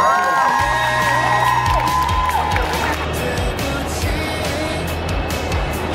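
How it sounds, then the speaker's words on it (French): An audience at Japan Expo applauds and cheers for a K-pop idol stage performance. Steady, loud clapping and shouts fill the space, with a brief musical tone fading at the start. "Je pense que vous pouvez les applaudir une dernière fois."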